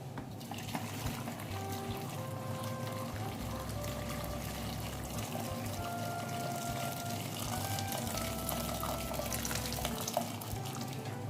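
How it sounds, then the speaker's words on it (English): Hot water pours steadily into a steeping bowl over dates, a continuous trickling and splashing with a faint low hum beneath, no voices. "pour hot water over it to cover it"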